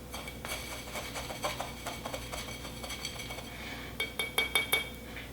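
Martini glasses clink and tap against each other and a hard surface while their rims are salted for a Rita 'Tini, producing a series of light, bright glassy chinks that grow busier toward the end, close and quiet.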